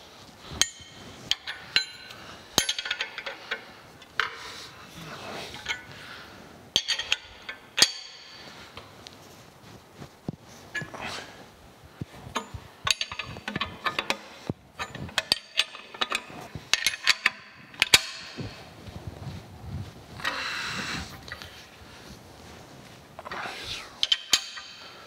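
Bolts are tightened on cast-iron line shaft brackets during a metal planer restoration: sparse, sharp metallic clinks and ratcheting taps close by, scattered irregularly over a quiet shop background.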